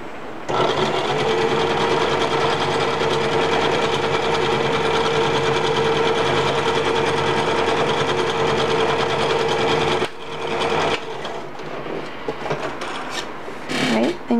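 A sewing machine runs steadily while stitching fabric for an apron, a close, continuous mechanical whir for about ten seconds before it stops, followed by softer handling rustles and clicks.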